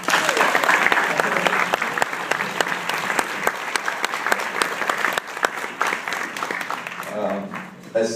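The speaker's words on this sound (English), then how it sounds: "let's give her a round of applause" Sustained applause from an audience at a Pay It Forward brunch, dense and steady for most of its length before thinning out near the end, with some voices mixed in.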